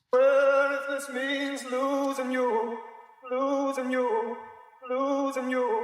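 Isolated vocal sample separated from its backing, treated with reverb and EQ, a sustained sung melody in a few phrases with soft tails between them, alone with no instruments.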